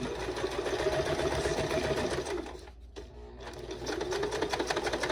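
A home sewing machine stitches a fabric sling bag with a steady, fast mechanical whir that slows and briefly drops out near the middle before running again at full speed.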